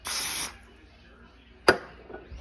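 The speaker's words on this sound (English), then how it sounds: "Spray your pan." A short hiss of cooking spray coats a baking pan in a home kitchen, a half-second burst followed by a sharp clatter of the pan and quiet room tone.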